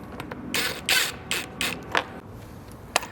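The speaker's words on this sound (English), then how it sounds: "Use a socket wrench to mount the front fender to the front fender bracket." Socket wrench tightening bolts that mount a motorcycle front fender to its bracket: several short bursts of ratcheting clicks and metallic creaks, close and fairly quiet, with pauses between strokes.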